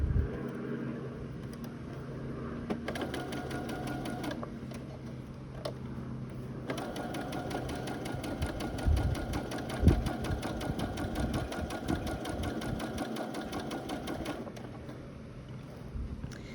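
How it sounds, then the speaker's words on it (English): A sewing machine stitches a French seam with a narrow seam allowance, a close, steady mechanical whir that starts and stops in long runs, with a brief reverse, alone without talk. "we're going to pop it back in underneath the machine"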